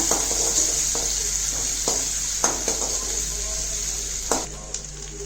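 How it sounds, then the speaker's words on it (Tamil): Small shallots sautéing in oil while cooking a mutton dum biryani, a constant close sizzle broken by several sharp clinks of a spoon stirring against the pan. "ஒரு ஆறு சின்ன வெங்காயம் கட் பண்ணி வச்சுருக்கா அது போட்டுடலாம் இதை நல்லா வதக்கிடலாங்க"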